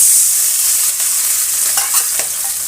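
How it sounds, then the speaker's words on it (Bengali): Water goes into a pan of frying cauliflower, katla fish and new potatoes for a Bengali curry, setting off a loud, close hiss and sizzle that eases slightly over a few seconds, with some stirring. "এবার সামান্য জল দিয়ে দিচ্ছি।"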